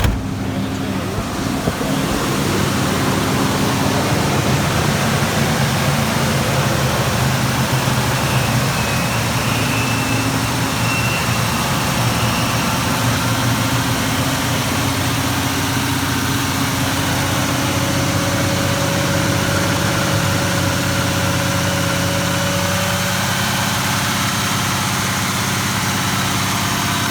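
A 1973 Chevrolet Chevelle SS sits at high idle after a cold start, with a steady, loud, rumbling engine drone that holds even for nearly half a minute.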